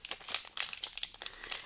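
A crinkly pink snack wrapper is torn and crumpled open with the mouth, with close, busy rustling and crackling bursts that go on without a break.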